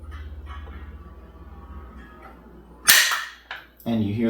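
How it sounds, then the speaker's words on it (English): An aluminum ATV and motorcycle lift from Harbor Freight lowers, then its lock bar snaps into place with a sharp metallic click, followed by a second smaller knock and a burst of clanking, close and loud over quiet background hum. "And you hear the bar click back into place"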